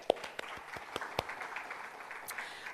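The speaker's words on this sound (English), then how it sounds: "let's give yourselves a round of applause for being here today" Applause from an auditorium audience at a nonprofit fundraising session, a steady wash of many hands clapping at moderate level with a few sharper individual claps standing out, no talking over it.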